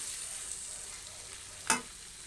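Eggplant sautéed with sardines is stirred in a pan, giving a soft steady sizzle with one sharp scrape of the utensil near the end.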